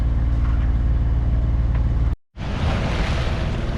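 A sailing boat's engine drones steadily at sea between the Canary Islands and Cape Verde, a loud low rumble with wind and water noise; it cuts out abruptly for a moment, then resumes brighter and rougher.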